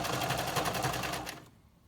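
A sewing machine stitches elastic onto the waist of a knit dress, running in a steady, rapid rhythmic whir for about a second and a half before stopping abruptly, close and fairly loud.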